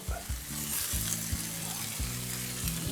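Steady crackling sizzle of shredded cheddar cheese frying in a pan, with a low humming tone pulsing underneath throughout.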